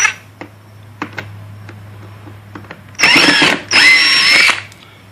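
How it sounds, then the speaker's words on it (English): A few light clicks and taps, then a close power drill driving Torx screws on a Ford Focus evaporator case whirs in two bursts of about a second each, with a short pause between. "I just put it on my drill to speed things up for you"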